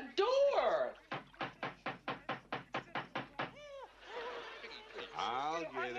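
Rapid knocking on a door, about a dozen sharp evenly spaced raps in a loud burst, with voices and other sounds before and after.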